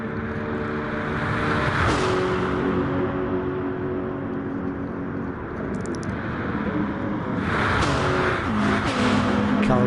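Race cars roaring around a track in a PS4 racing game, a continuous loud engine drone with shifting revs, passing cars and a brief tire-squeal burst, steady throughout with no voices.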